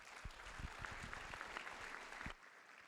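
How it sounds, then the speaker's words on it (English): An audience at a rabbis' report event claps in a steady, dense burst of applause that stops abruptly near the end, leaving a brief quiet tail. "he deserves a big round of applause"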